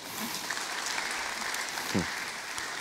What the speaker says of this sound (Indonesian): Berikan tepuk tangan belum sayang